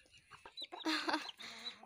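Rooster in a village giving a few loud, close clucking calls in short bursts, with a denser squawking stretch in the middle, over a quiet rural background.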